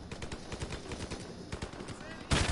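A gun in Call of Duty Modern Warfare rattles off quick uneven bursts of shots at moderate volume, ending with a louder sharp blast.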